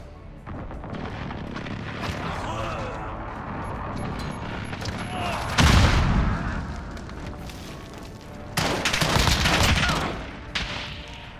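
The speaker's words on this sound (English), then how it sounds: "Allied precision airstrike in." Airstrike explosions and rapid gunfire from the Call of Duty: Modern Warfare open beta multiplayer, a continuous loud battle din with heavy booms near six and nine seconds, with radio voice lines faintly mixed in.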